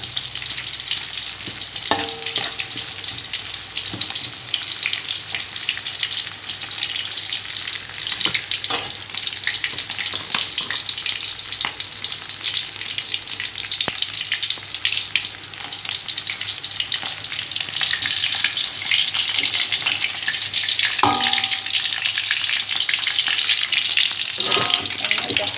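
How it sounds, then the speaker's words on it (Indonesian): Steady sizzling from a hot pan as potatoes and tofu are stir-fried, with occasional scrapes of a utensil stirring the food, continuous and close. "Kita tumis sampai dia benar-benar wangi."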